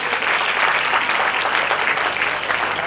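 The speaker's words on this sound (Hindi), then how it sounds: "तो तालियां निरंतर बजाते रहिए।" An audience at the Sawan Mahotsava dance and music event claps continuously in a thick, even roar of applause that holds steady without a break, with no voices over it.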